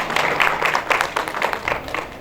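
A crowd of spectators at a stage event applauds, giving a steady, dense wash of many hands clapping together, moderately loud and continuous for a couple of seconds.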